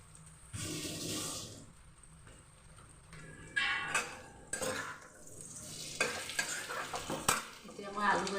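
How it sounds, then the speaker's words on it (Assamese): Potato stir-fry sizzles and crackles in a pan as it is tossed and scraped, with bursts of frying noise broken by spatula clatter, close and fairly quiet. "এতিয়া মই আলু ভাজিটো জুই কমাই কমাই ভাজিছিলোঁ, এতিয়া জুইটো বঢ়াই ভাজিম"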